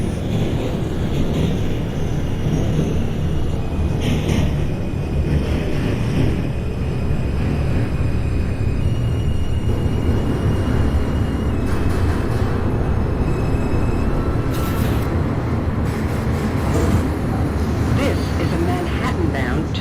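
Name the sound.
NYC Subway R142 train running, from OpenBVE train simulator game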